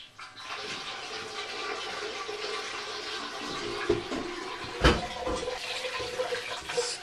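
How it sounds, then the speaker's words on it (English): Hot water at 170 degrees poured slowly over a pilsner beer mash during sparging, a steady rushing, splashing flow of liquid, fairly close, with a couple of brief louder knocks partway through. "Sparging with 170 degree water as slowly as I possibly can."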